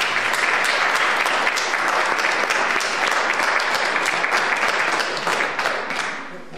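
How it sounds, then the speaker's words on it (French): Applause from a church congregation during a Mass, a dense, sustained clapping with distinct claps standing out, holding strong before fading away at the end. "J'aimerais ça qu'on les applaudisse"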